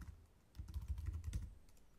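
Keystrokes on a computer keyboard while an email address is entered into a signup form, a quick burst of close, soft taps with no voices.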